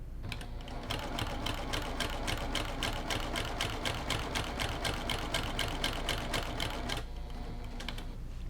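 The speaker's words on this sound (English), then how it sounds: "you want to have your sewing machine in the needle down position and just stitch on the lines" A sewing machine in needle-down position stitches a quilted Dresden plate in a rapid, steady rhythm for about six seconds, then stops, leaving a low hum.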